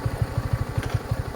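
A motorcycle engine runs close by, giving a steady, rapid thumping pulse with a faint mechanical clatter on top and no talking.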